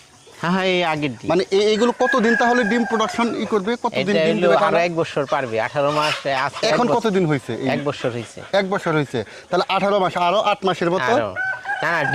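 Tiger chickens on a poultry farm crow and cluck close by, with several loud calls running through the clip while people talk over them.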